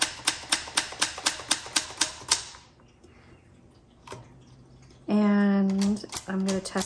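Someone types on a 1966 Olympia SF travel typewriter with a cursive font, making about a dozen crisp, evenly spaced keystrokes, then a single clack after a pause, and then a person speaks.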